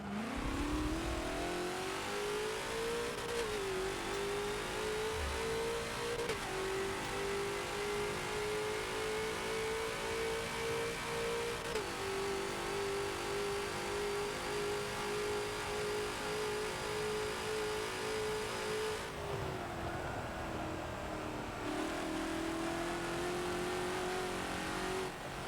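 The TNT GT40 race car screams around Le Mans in Forza, its engine pitch climbing through each gear and dropping sharply at every upshift. It sounds loud and continuous, with a deeper dip near the end before it winds up again.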